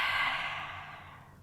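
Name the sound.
exhaling breath during yoga breathing exercise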